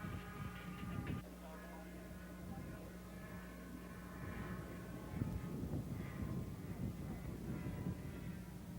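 A radio-controlled scale model airplane's small engine drones at a distance at an air show, its pitch rising and falling as it passes overhead, with faint voices in the background.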